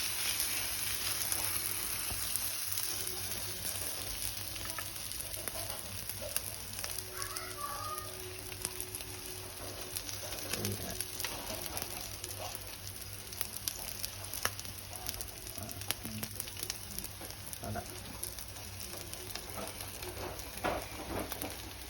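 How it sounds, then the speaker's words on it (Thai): Japanese pizza batter frying on low heat in a pan, a faint, steady soft sizzle with scattered small pops running continuously throughout. "ทอดไฟอ่อนๆนะครับผม สามนาที ห้านาที แล้วค่อยกลับด้านนะครับ"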